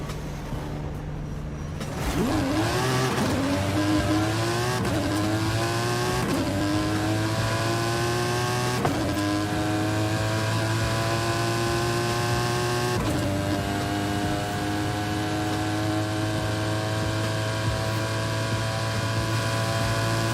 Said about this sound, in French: passons au test de la voiture sur la course de drague.